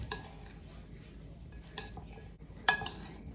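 A black bean and corn salad dressed with olive oil is stirred in a bowl, giving soft scraping and clicking strokes up close, fairly quiet, with one sharper clink near the end.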